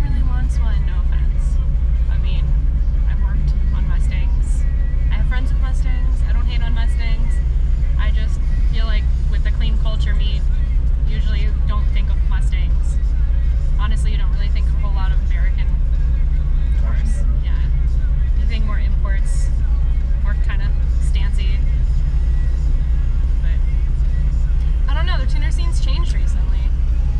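Ford Mustangs rumble and rev at Daytona International Speedway during a car show, a continuous loud engine drone with passing cars, under crowd chatter and people talking nearby.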